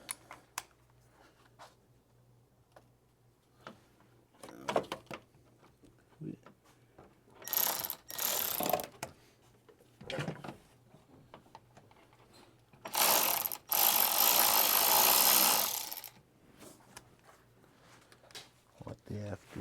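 Ratchet clicks from a small extension loosening a bolt on a 2025 Explorer ST during a charge pipe install, sounding as short bursts and two longer runs of rapid ratcheting between quieter handling noises.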